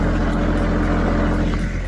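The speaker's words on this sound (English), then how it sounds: "We're on the tractor" Steady, loud engine drone of a tractor while riding on it, a continuous low rumble with no talk over it.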